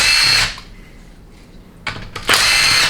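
A power tool spins out 10 mm bolts on the lockup solenoid of a 4L60E transmission during a teardown. Two loud, close, whirring bursts come with a quiet gap between them.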